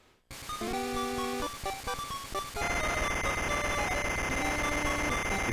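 A video game alarm clock rings with rapid, repeated electronic beeps, then swells into a dense, loud jangle of tones that keeps going.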